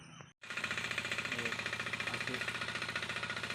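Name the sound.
tractor engine in a paddy field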